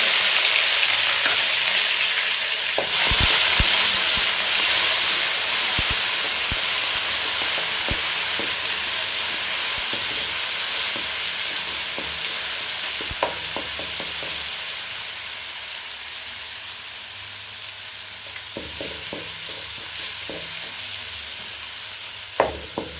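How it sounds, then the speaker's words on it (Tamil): Mustard seeds, urad dal, curry leaves and ginger garlic frying in hot oil for a mutton fry, a loud close crackle and sizzle at first, then a steady hiss with scattered pops and spoon clicks, no talk. "கடுகு, உளுத்தம் பருப்பு சேர்த்துக்கலாம், கருவேப்பிலை சேர்த்துக்கோங்க, இஞ்சி பூண்டு சேர்த்துக்கோங்க"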